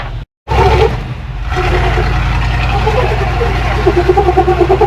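A custom-built Jeep climbing over a trail obstacle gives a loud, close engine roar that cuts out briefly, then holds at a steady labouring drone with a pulsing throb, while voices talk over it.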